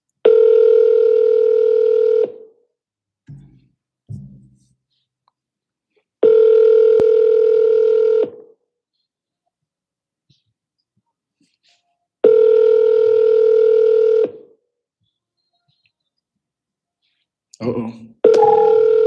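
A telephone call rings out with three long, loud electronic ringback tones evenly spaced by silence, with brief clicks and handset noises in the gaps and near the end.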